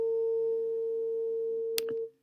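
A pure, steady sine tone at 454 hertz, matching the pitch of a departing fire truck siren, holds level for about two seconds with a faint harmonic above, a brief click near the end, then fades out.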